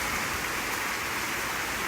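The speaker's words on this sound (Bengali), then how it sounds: "ভালোই বৃষ্টি পড়ছে।" Heavy rain pours steadily in a dense, unbroken hiss, close and loud, with no voices.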